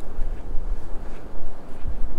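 Ocean breeze at Matagorda Beach blows steadily across the microphone in gusty, rumbling waves, with surf washing faintly beneath the wind.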